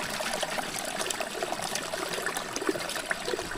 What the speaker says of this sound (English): It's natural water is coming from there.